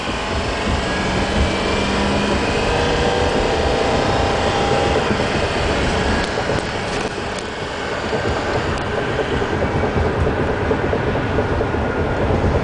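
Steady broadband road and engine roar from a 2006 Ford Econoline E350 diesel passenger conversion van cruising at highway speed, a continuous loud drone with no talk over it.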